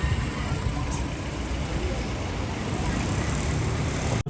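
Steady road and traffic noise from inside a car on a road trip, a broad continuous rumble and wind hiss throughout with no clear voices.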